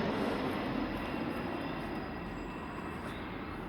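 Ryanair airliner passing low overhead, a continuous broadband roar that starts loud and slowly fades, heard alone with no voices.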